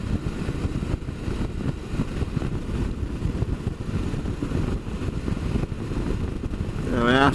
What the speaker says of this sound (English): just let the little bike stretch your legs and let her breathe a bit